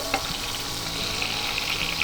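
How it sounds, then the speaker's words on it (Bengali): Chopped tomatoes fry in a pan over a whole-cumin tempering, making a short, even, close sizzle that continues without a break. "টমেটোটা একটু ভাজবো"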